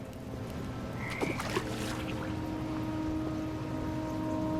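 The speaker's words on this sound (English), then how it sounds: "And toads." Toads give a few brief, faint croaks over a steady, noisy background hum, sounding somewhat distant rather than close.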